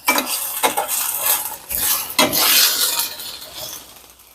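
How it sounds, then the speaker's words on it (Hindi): Okra (bhindi) fries in a karahi, with a soft sizzle under repeated metal spoon scrapes and clinks as it is stirred. The strokes are close and irregular and there is no talking. "ये भिंडी हम 2 मिनट फ्राई कर लेंगे"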